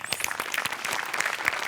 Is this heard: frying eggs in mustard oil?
no